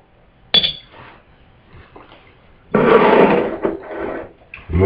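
Glass container of bluish Blue Gold alchemy mixture being stirred, giving a sharp clink followed by a dense run of close, loud scraping and tapping against the glass.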